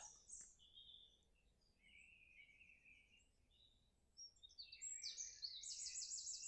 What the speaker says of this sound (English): All the birds chirping in the trees.